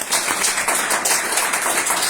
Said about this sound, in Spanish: ¿Cuántos van a aplaudir más fuerte?